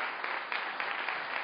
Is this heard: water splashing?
no